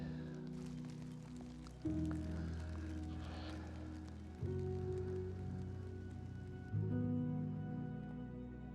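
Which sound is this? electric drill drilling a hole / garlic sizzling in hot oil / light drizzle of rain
light drizzle of rain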